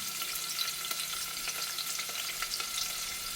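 Onions fry in hot oil with a constant crackling sizzle and occasional sharp pops, close up and steady throughout.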